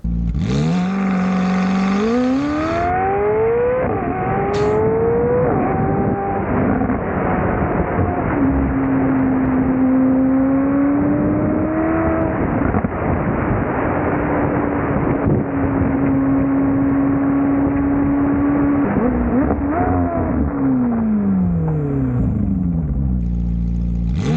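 A McLaren 765LT engine revs and accelerates loudly along a road, its pitch rising and falling through gear changes with wind rushing past throughout.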